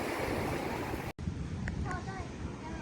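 Sea waves wash and splash against the shore beside a seaside meal, a loud broad rush with wind noise, then a brief cut and softer surf with faint voices.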